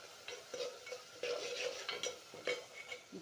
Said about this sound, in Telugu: ఆనియన్స్ కొంచెం సేపు వేగాలి.